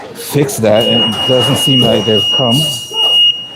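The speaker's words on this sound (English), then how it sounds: "I am at work, so our oven's going off and it's very loud." A continuous high electronic beep from an oven timer alarm sounds in a work kitchen and runs steadily for a few seconds under someone talking close by.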